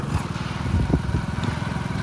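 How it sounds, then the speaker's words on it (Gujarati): A motorbike engine idles with a steady, fast low putter, close and fairly loud throughout a short stretch on a rural outing, with no voices over it. "ચલો બાઈક ચાલુ કરો."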